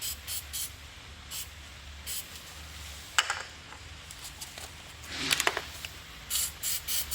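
Battery terminal protector sprayed in short bursts onto the corroded terminals of a Toyota Sienna car battery, a series of sharp hissing spritzes separated by pauses, with one longer spray near the end.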